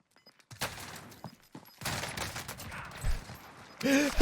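Bursts of gunfire in the Call of Duty Warzone solos mode, scattered short shots early on, then a denser rattling volley with a sharp final burst, mid-distance and fairly loud, with faint game sounds between.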